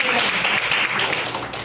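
Classroom applause for a student at a school event, a dense steady patter of many hands clapping at once, fairly loud and continuous, tapering slightly near the end.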